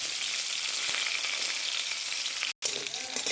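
Cumin, green chilli, ginger, garlic and curry leaves fry in hot oil with a loud, steady sizzle and crackle. A brief silent break interrupts it just before the end.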